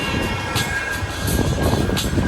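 Passing train in Manchester, a steady broadband rumble of rail wagons rolling by close and loud, with faint metallic squeal tones above and no talk.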